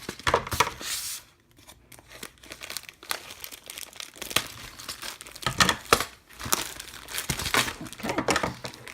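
Taped parcel packaging holding LEGO parts is torn open and unwrapped up close, giving irregular bursts of crinkling, ripping and rustling with brief pauses between them.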